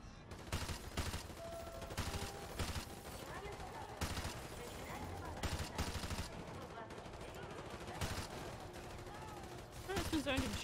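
Dense gunfire from a Call of Duty Modern Warfare 2 firefight, repeated sharp bursts and shots spread across the whole stretch at a steady, moderately loud level, with talk and game sounds mixed in.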